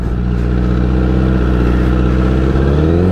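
Motorcycle engine revving steadily while stuck in snowy mud, a loud, close, continuous mid-pitched drone with stacked harmonics holding throughout, slight pitch rise near the end.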